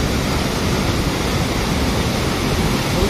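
Chitrakoot waterfall roaring as a dense, steady broadband rush of falling water, close and loud without a break.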